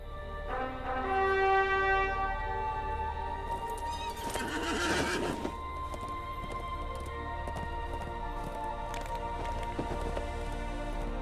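Horse riding in LOTRO: a whinny rings out near the start, then hooves clip-clop along steadily at a moderate distance, with no talk.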